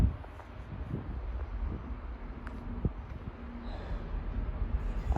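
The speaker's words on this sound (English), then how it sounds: "Train now going slowly is a freight train." A freight train rolls slowly through Edge Hill station, a low steady rumble with faint clanks and a few sharp metallic ticks, moderately distant, under light wind and rustling.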